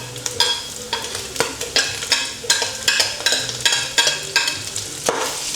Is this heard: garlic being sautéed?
yes